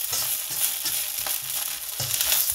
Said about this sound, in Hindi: 3-4 मिनट में ऐसे ही इनको फ्राई करूँगा